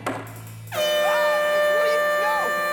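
After a brief bit of speech, a loud horn blares continuously, a harsh sustained tone while voices shout over it.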